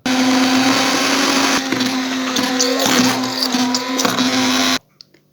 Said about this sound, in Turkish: Pirinç unumu ekleyip tekrardan blenderdan geçiriyorum.